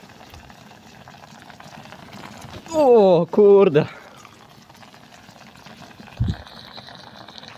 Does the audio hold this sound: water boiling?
yes